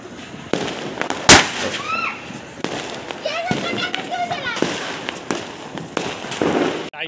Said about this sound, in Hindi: बीड़ी पटाखा जला रही है, हाथ में फोड़ दिया।